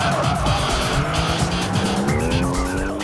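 Keiichi Tsuchiya drifts a car at Maze Circuit in Niigata, tires squealing steadily over a loud, continuous engine roar that rises in pitch across the slide.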